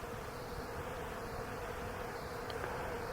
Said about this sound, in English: and listen to those bees.